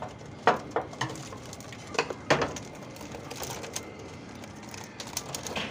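Pigeons peck at red pellet feed, making soft irregular taps and patters with occasional low coos, all fairly quiet and close by.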